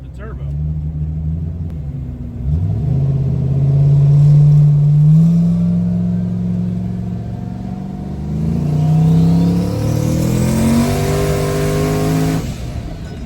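A loud turbocharged car engine accelerates hard through rising revs, pulling strongly, with a brief shift dip and a rising turbo whine before it cuts off.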